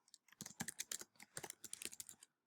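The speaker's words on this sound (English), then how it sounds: "I just would type in their first name, last name." Student names typed on a computer keyboard, a quick run of light, close key clicks in an irregular rhythm, quiet and alone.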